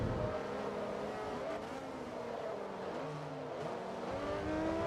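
Ferrari race cars driving in Forza Motorsport 2, a continuous loud engine drone with shifting revs and pitch, steady throughout.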